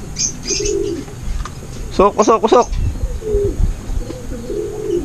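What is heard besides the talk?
racing pigeons cooing on arrival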